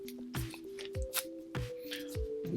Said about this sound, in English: Get my scissors here. Give it a little snip.